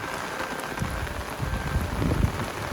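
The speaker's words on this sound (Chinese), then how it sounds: "下大雨了" Heavy rain pours down steadily during a sudden downpour, a dense, even hiss of drops hitting surfaces nearby, with no voices.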